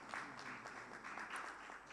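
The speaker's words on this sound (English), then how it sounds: "A round of applause to Prof." An audience applauds a professor at the launch of Botswana's 2025 Tobacco Industry Interference Index report. The clapping is steady and fairly faint, and it lasts the whole brief moment.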